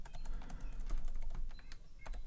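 Computer keyboard being typed on in a quick, continuous run of close, crisp key clicks.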